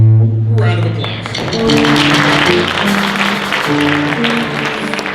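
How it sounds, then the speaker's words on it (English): Audience applause at a jazz concert, steady broadband clapping sustained throughout, with sustained band tones underneath. "Give you guys a round of applause"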